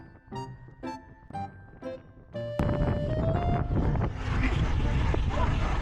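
Strong morning wind blasts the microphone during a bike ride, turning into a loud, continuous roar after a few seconds of quieter chatter and music-like tones.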